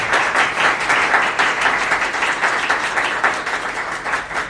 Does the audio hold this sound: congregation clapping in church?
yes